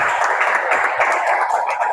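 Church congregation applauding during a Sunday service, a dense, steady wash of many hands clapping together, moderately near and even in loudness throughout, with no speech over it.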